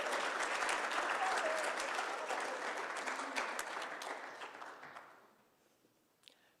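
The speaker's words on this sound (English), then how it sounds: "Let us celebrate and give Patrice a round of applause and welcome her to UUCP." A Unitarian Universalist congregation applauds a new member at a worship service, a full burst of clapping that gradually fades out to near silence.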